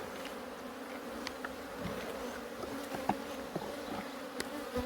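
Bees humming as a hive is opened for inspection, a soft continuous buzz from many insects, with scattered light knocks and clicks from handling the frames.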